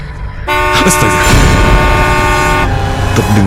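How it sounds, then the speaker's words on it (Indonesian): A car horn blares loudly and continuously, sounding at night beside an ambulance, with the steady tone holding for several seconds at close range. "terdengar suara klakson mobil yang tiba-tiba saja menyala"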